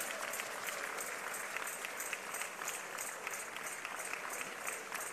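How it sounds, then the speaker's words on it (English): A church congregation claps together during a Sunday service, a steady, fairly distant patter of many hands with a rhythmic pulse throughout. "Church, keep clapping."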